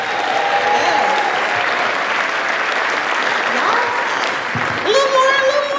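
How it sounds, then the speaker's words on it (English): Story slam audience clapping steadily throughout, a dense continuous wash of hand claps with faint cheering and background voices, growing slightly near the end. "let me hear a hand clap"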